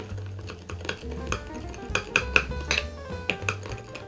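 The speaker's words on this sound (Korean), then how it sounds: "잘 섞어주세요." A utensil stirs oyster sauce, soy sauce and rice wine together in a bowl, with quiet scraping and clinking taps against the bowl in an uneven rhythm, close up with no talking.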